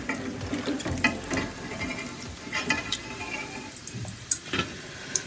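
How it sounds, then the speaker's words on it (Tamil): Peanuts fry in hot oil in a home kitchen, being prepared for Diwali kara boondhi. A close, steady crackle and sizzle runs throughout, with scattered louder pops and a spoon scraping now and then. "இப்போ வந்து நான் வேர்க்கடலை கொஞ்சம் எடுத்திருக்கேன் பூந்திக்கு. இதை நம்ம ஆயிலில் வச்சு அப்படியே பொறிச்சு போட்டுருவோம்"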